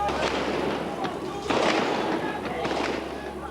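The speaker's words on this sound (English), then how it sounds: "there was gunfire from those lorries." Sharp cracks of gunfire from troops on lorries pop irregularly against a noisy crowd background in China, some shots close and loud, others more distant, with voices underneath.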